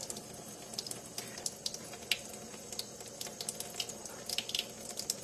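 Homemade butter is rinsed and squeezed under a running kitchen tap, a steady splashing stream broken by irregular sharper splatters close by.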